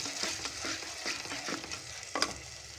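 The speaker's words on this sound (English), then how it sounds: "To this now I will be adding my eggs and immediately stir them" Eggs stirred quickly in a hot pan for egg bread poha, a close bright sizzle broken by repeated spatula scrapes and taps, one sharper clank near the end.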